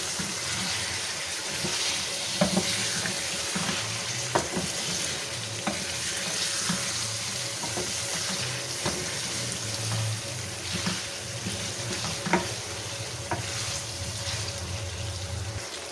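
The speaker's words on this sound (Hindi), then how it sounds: "ये अब हम इसमें इसे भूनेंगे।" Cut pieces of a large peeled potato fry in roasted spice masala, a steady sizzle broken by occasional scrapes and taps of stirring.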